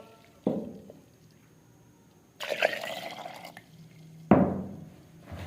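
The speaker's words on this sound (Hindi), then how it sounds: "अब इसके अंदर हम पानी ऐड कर लेंगे 2 गिलास।" Water is poured into a jug of whole plums for a fresh plum juice, with a few splashy pours and bursts of filling, moderately near and alone without talk.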